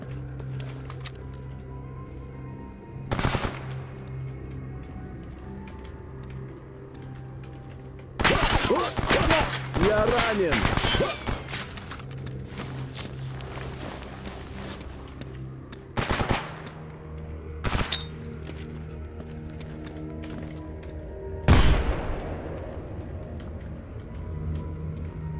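Bursts of gunfire from Stalker Anomaly: a long rattling exchange in the middle and several single sharp shots spread apart, loud against a quiet ambient hum.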